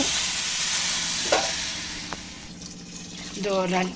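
Steady sizzling hiss of a hot biryani pot with rice, a few sharp pops and a burst of bubbling as water goes in near the end.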